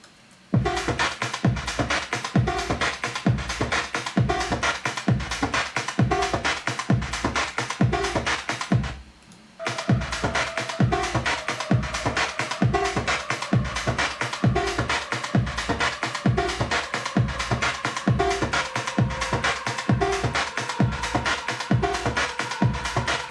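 A synth-driven electronic track with a steady pounding beat and a washy, reverberant lead tail; the music briefly drops out near the middle before resuming.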